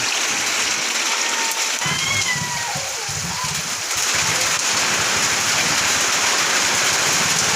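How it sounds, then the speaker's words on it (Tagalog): Steady heavy rain pours down in a dense, continuous hiss, with a few faint higher tones briefly audible early on. "Umulan na guys. Malakas ang ulan."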